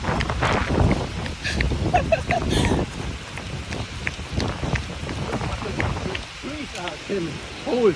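Rain falls steadily outdoors during a run in wet weather, with a constant patter and spatter close by while several people talk and exclaim over it.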